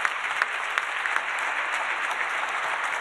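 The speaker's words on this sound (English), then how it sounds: "Can we give them another round of applause?" Steady applause from a conference audience at an urban sustainability summit plenary, dense clapping throughout with no gaps, fairly loud and close.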